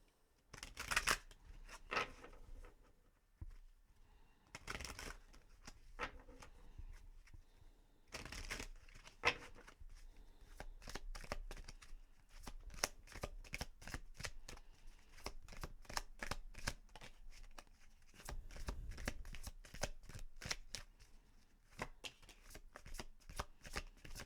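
Romance Angel Oracle cards being shuffled up close, a long run of crisp riffling and flicking bursts with short pauses between, with no talking.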